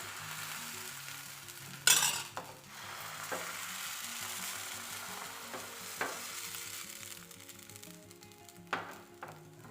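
A hot pan hisses steadily as soft appam batter is poured and swirled. Sharp scraping clicks and crackles from a ladle or spatula sound close by, with tonal background music running underneath.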